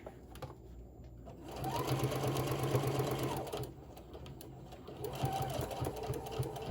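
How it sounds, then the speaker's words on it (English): A sewing machine stitches fabric seams on an 11-inch bowl cozy, its fast, close, steady whirring running in two bursts separated by a quieter pause. "I just sew them down and they're fine."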